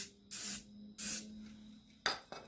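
Short hissing bursts from a spray paint can coating old dumbbells, two longer sprays followed by two quick ones, close and clear with quiet gaps between.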